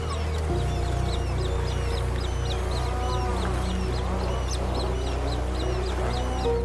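Seabirds call repeatedly, with many overlapping squawks and honks, on the coast of the Faroe Islands. The calls rise over a steady low background drone.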